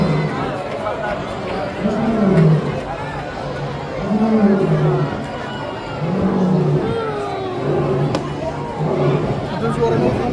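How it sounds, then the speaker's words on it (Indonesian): A lion at a show at Taman Safari Bogor gives a steady series of deep, grunting roars about every two seconds. They carry over a constant hum of crowd chatter and voices. "Itu suaranya iya singa benar."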